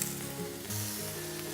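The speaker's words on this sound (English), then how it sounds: "we're going to add now some red onion as well" Red onion and chunky vegetables sizzle and fry in a pan with no added fat on an AGA range cooker, a steady close hiss with light stirring and no talk.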